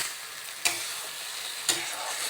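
A prawn and pumpkin curry is stirred in a pan, with two distinct scraping strokes about a second apart over a soft, continuous sizzle, close up and with no talking.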